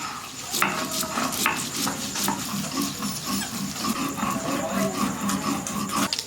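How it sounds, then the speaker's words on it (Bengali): Small river fish fry in hot oil in a pan, a continuous crackling sizzle with repeated sharp clicks and scrapes of a utensil throughout, no talking. "মাছটা ভাজা হচ্ছে"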